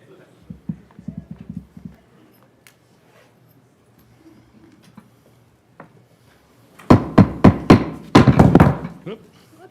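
A gavel struck at a city council meeting, a cluster of loud, sharp wooden knocks in quick succession following quieter scattered taps and soft talk.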